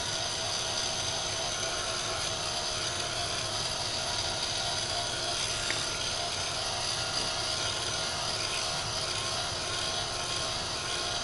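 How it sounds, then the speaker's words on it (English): A heat gun blows hot air in one steady, unbroken whirring roar that holds at an even, moderate loudness throughout, with no speech. "I'm just gonna hit it just a touch with the heat gun"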